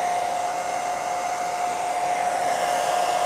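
A pink hair dryer blows steadily during a thrift-store brass lamp makeover, a loud, close, even whoosh with a high motor whine that runs unbroken throughout.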